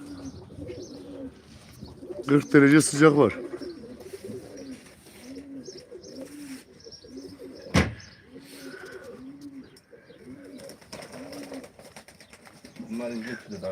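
Pigeons at a live auction coo in a soft, repeating rhythm close by, with a sharp knock midway and someone talking over them in places.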